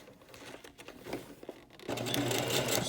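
A sewing machine stitches gathers straight across fabric, first with quieter handling rustles, then a steady close-up whir and rapid stitching for the last second, with no talking.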